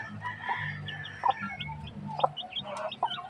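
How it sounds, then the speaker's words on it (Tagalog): Black chicken clucking in a backyard flock, a run of short, moderately close clucks and chirpy calls spread irregularly over a few seconds, with another bird audible nearby. "hindi ito sa akin na itim na manok"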